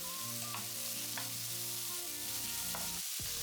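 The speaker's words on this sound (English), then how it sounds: "I stir fry it until it becomes browned." Eggplant stir-fried with a pinch of salt and olive oil in a heated pan, a steady close sizzle with scattered scraping strokes of the spatula, briefly dropping near the end before resuming.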